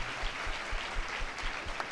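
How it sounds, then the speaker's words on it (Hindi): Church congregation in Udaipur clapping in thanks during a service, a soft, fairly distant burst of many hands applauding steadily for a couple of seconds. "ताली बजा के प्रभु को धन्यवाद आप लोग दे सकते हैं."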